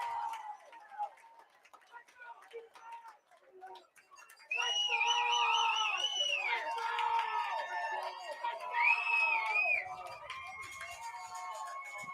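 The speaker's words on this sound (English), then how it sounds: "Crowd trying to inspire Sheffield here, getting to their feet" A crowd at a high school football game between Union City and Sheffield rises in volume, with whistles, shouts and chatter swelling into sustained cheering, while an announcer talks over it.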